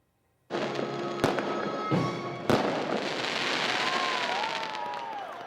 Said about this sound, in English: Fireworks also returned for the first time since 2019.